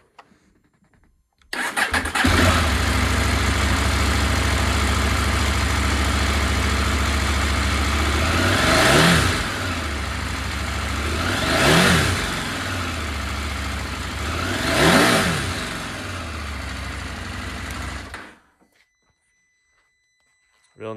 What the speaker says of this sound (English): So let's start this up.